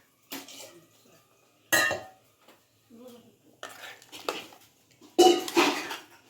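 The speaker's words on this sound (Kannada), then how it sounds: "ಅಮ್ಮ ಇನ್ನೊಂದು ಸ್ವಲ್ಪ ನೀರು ಹಾಕ್ತಿದ್ದಾರೆ" A pressure cooker of ridge gourd and soaked chana dal kootu is handled as more water goes in: a few sharp metal clanks and scrapes of pot and lid come in separate close bursts, with short gaps of quiet between them.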